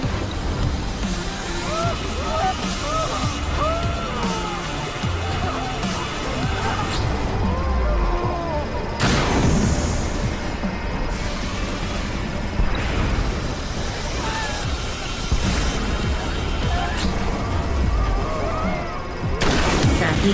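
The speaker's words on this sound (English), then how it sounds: "Multiple explosions detected." Several explosions in the Xbox One game ScreamRide: loud booming blasts over a dense, continuous roar of crashing debris, with the sharpest bursts near the middle and end.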